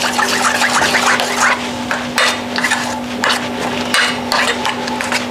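Salt being stirred into eggplant (brinjal) chutney: a spoon scrapes and rubs through the thick mixture in a pan in steady close strokes, with a faint sizzle and a constant low hum underneath.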